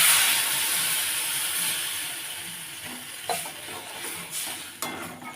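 Water poured into a pan of frying fruit chutney with turmeric raises a loud hiss that slowly fades, followed by a few spatula knocks against the pan.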